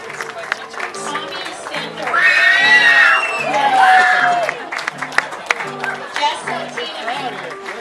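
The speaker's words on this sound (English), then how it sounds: "the lady in the back screaming for you" A woman in the audience at an elementary school promotion ceremony in La Crescenta, California screams and cheers above the crowd, two loud whooping bursts over applause, with a voice speaking nearby.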